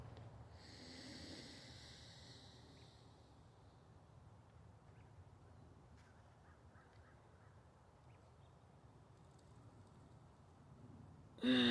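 A slow, deliberate breathing exercise for calming panic attacks, with faint, steady airflow through nose and mouth over a quiet background and no talking.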